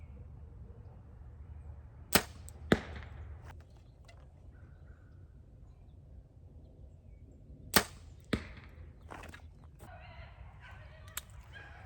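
Several archery arrows shot at a target from 40 yards, outdoors, heard as a few sharp, loud impacts, two close together early and two more later, with quieter thuds between over a low steady background hum.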